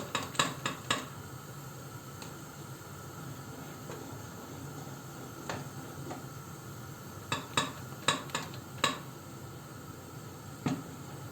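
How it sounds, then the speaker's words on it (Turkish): Metal utensil clinks and scrapes against a pot of flour-thickened soup in short bursts, with a soft steady simmering hiss underneath and no talking. "çok güzel kaynıyor"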